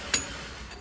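A slide hammer bearing puller strikes once with a sharp metallic clink, close and brief, followed by faint workshop room tone during a trailer refurbishment.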